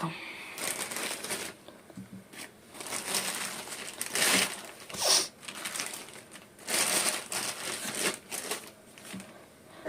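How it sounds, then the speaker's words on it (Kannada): Several sharp cracks and crunching taps of four eggs being broken into sambar in a pressure cooker, close up, with brief rustling and clatter in between. "ಮೊಟ್ಟೆನ ಒಡೆದ್ಬಿಟ್ಟು ಇಲ್ಲಿ ಮೇಲೆ ಬಿಟ್ಟು"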